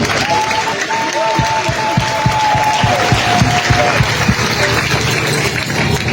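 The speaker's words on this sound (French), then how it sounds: "Chers membres de l'Église, pourriez-vous applaudir pour vous-même?" Church congregation clapping together during a Sunday anniversary service, loud rhythmic applause with cheering and a sustained tone running through it.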